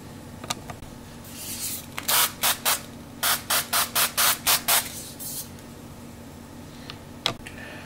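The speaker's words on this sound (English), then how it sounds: "right now I'm going to spritz it with some oil" Quick bursts of cooking oil spray hiss onto food being prepared for an air fryer, a short pump of three spritzes followed by a rapid run of about seven more, close and crisp against a quiet kitchen background.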